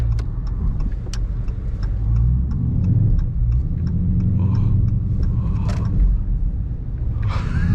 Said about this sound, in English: Just hitting some little baby drifts.